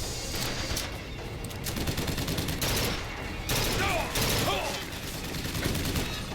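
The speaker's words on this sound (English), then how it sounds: "You're shooting the fucking ground!" Rapid video game gunfire in a steady stream of fast bursts, loud and close, lasting several seconds with no talk.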